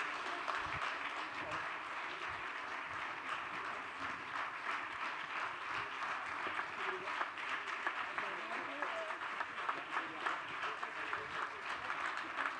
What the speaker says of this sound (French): vous pouvez les applaudir un peu plus